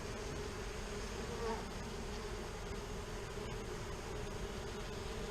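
Honey bees buzz in a dense, steady drone inside a hive as it is opened for inspection with a virgin queen present, the hum near and continuous with no talk.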